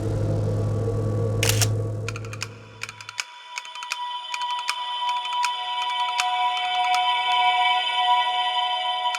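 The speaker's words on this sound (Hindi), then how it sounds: "तू पहले फोटो खींचती हूँ तेरा" A phone camera taking a photo: a sharp shutter-like click, followed by a run of rapid electronic clicks and tones over a low hum that fades out.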